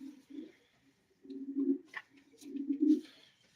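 Soft, low pigeon coos in several rolling bursts, close and gentle, with a faint chirp between them and no talking.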